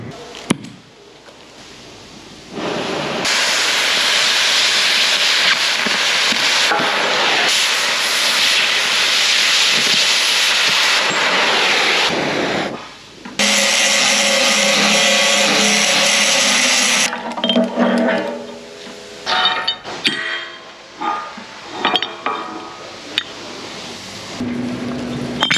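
Metal pieces for a J&M grain cart being cut in a shop, a loud steady hissing, grinding roar that runs for long stretches, stops briefly, then resumes and breaks into choppy bursts.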